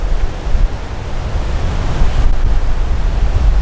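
Ocean surf rolling onto the French coast, a steady broadband wash of breaking waves with slight wind noise, continuous and fairly loud without a clear break between swells.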